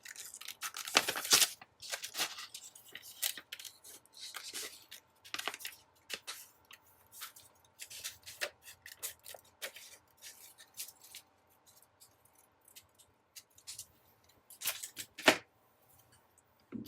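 Scissors snipping around a floral planner sticker, producing faint, close, irregular clicks and paper cuts with brief louder rustles, in a quiet room with no talk.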